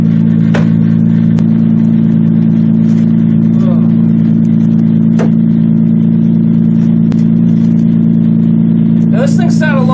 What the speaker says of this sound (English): Gotta love Toyotas, always starting up.